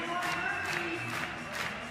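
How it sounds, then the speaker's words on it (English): An arena crowd at a 2023 European semifinal competition breaks into sustained, dense clapping, a continuous wash of applause with a murmur of crowd noise underneath. "And how about the entire arena erupting in a clap for Prestanda?"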